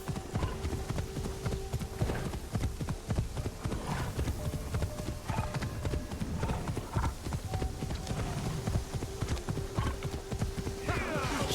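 Horse hooves clip-clop steadily in Assassin's Creed Shadows, a dense, even trot of hoofbeats running the full length over game ambience, with a faint neigh-like tone.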